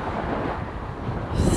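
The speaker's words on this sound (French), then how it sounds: "J'ai le vent qui va pratiquement me contrer et vu la distance, le vent est soutenu." Strong, steady wind roars across the microphone on a remote island beach in Thailand, a continuous broadband rush with a gustier swell near the end.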